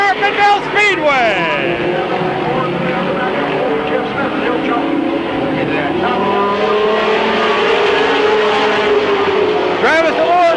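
Stock cars race three abreast at Midvale Speedway, loud engines sweeping past and rising and falling in pitch as they pass, with an announcer talking over the pack throughout.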